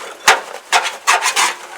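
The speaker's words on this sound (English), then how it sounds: "Now you're not going to hurt the plant by sawing through" Four coarse rasping strokes as a saw cuts through the outer roots of a container-grown dwarf conifer's root ball, close and fairly loud with short gaps between them.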